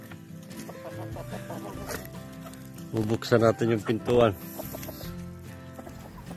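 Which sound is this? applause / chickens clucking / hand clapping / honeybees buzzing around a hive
chickens clucking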